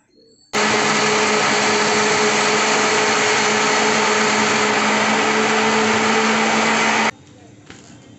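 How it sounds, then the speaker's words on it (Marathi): An electric kitchen mixer churns cream with water to make butter for homemade ghee, starting abruptly with a loud, steady high-pitched whir that runs for about six and a half seconds and then cuts off. "ज्यावेळेस आपण मिक्सर चालू करू ना त्यावेळेस ते वरती येतं"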